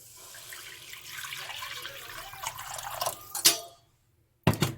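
Water runs from a kitchen tap into a pot for cooking rice, a steady splashing stream that stops abruptly, followed by a brief clatter of the pot after a short pause.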